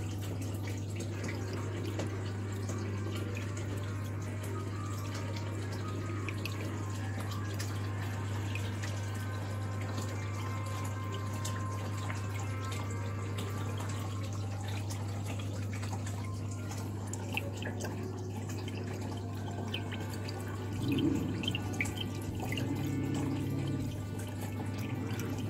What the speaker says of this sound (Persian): آب تقریبا تا اینجا تخلیه میشه.